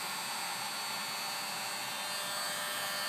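A heat gun blowing steadily on the shattered screen of an iPad 2 to soften its adhesive, a constant close-up whoosh with no speech.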